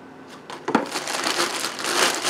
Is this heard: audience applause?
no